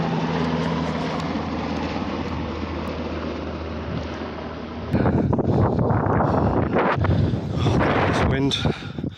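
Wind blows steadily on a hilltop hike along Blakey Ridge, rushing over the microphone and growing gustier partway through as someone speaks over it.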